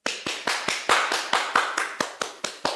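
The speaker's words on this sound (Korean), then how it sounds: "큰 박수 부탁드리겠습니다" Clapping welcoming a presenter at an online information session, about a dozen sharp, evenly spaced claps in a steady rhythm, close and crisp, likely from one or a few people rather than a large crowd.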